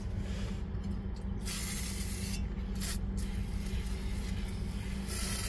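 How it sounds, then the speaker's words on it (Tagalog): Aerosol leather care cleaner sprayed onto a stuck car seatbelt in long, steady hissing bursts, loud and close, with brief breaks between sprays and no talking. "Sprayhan nyo lang."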